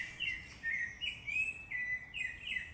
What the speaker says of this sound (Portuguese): tem um pássaro bem aqui